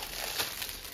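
A plastic packaging bag crinkles close up during an unboxing, giving a continuous soft rustle with a brief sharper crackle partway through and no talking.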